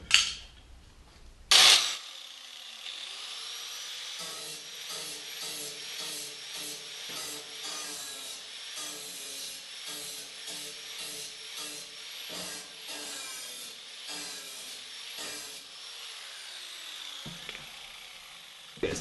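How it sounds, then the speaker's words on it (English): Rhythmic cutting strokes on the steel door cap of a 1973-1975 Square body K5 Blazer, trimming an eighth inch all the way around, run steady and close for most of the stretch after a couple of sharp knocks at the start, with no talk. "So I'm going to go ahead and cut another 1/8 inch off all the way around."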